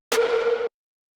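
A tonal snare sample from the Dark Pop sample pack sounds once: a crisp hit with a ringing pitched body that cuts off abruptly after about half a second, followed by silence.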